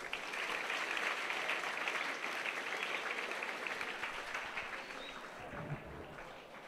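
An audience at an Islamic religious lecture breaks into dense applause that holds steady, then thins out and tapers off, heard at some distance with a faint voice near the end.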